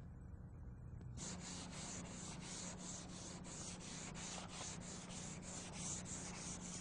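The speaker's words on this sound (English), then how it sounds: "sand the spot and glazing putty with 180 to 220 grit sandpaper" Sandpaper of 180 to 220 grit rubbing over glazing putty on an auto body repair, a steady rhythmic back-and-forth scratching with even strokes, close and alone, starting after a second of quiet.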